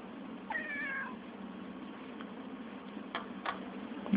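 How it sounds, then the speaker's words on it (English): A domestic cat gives one short, clear, rising meow in a quiet room, with a few faint clicks and taps afterwards and no talking. "You probably hear my cat."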